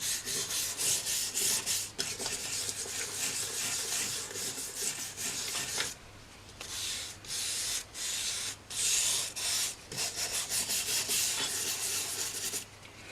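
A soft wire brush scrubs dirty old oil sharpening stones in rapid back-and-forth strokes, each a close, raspy scratching burst, with short pauses between bouts.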